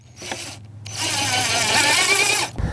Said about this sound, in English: I'm just going to use some screws and screw the cage to the pallet just so it doesn't move